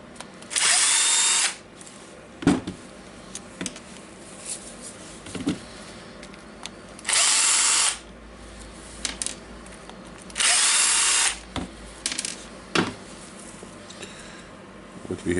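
A DeWalt DCD776 18V cordless drill runs in three loud whirring bursts of about a second each while backing out screws, with clicks, taps and handling noises of the tool between the bursts.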